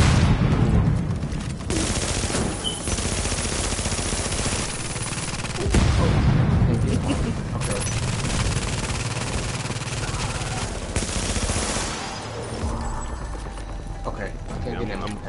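Rapid automatic gunfire from a weapon in The Division at the West Side Pier, a dense continuous stream of shots running through the whole stretch with loud bursts, mixed with game noise and brief voices.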